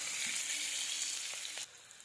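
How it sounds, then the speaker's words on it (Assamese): Sliced onions with whole cumin seeds sizzle in hot oil in a pan, a loud, steady crackling hiss with a couple of soft stirring knocks before it suddenly quietens near the end. "এতিয়া ইয়াত পিঁয়াজ দি পেলাই অকণমান মই ভাজি ল'ম"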